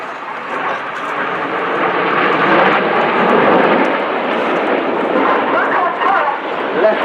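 Red Arrows jet aircraft performing a flying display at an air show, a loud continuous roar of jet engines that swells and holds across the whole stretch, with a commentator's voice talking over it.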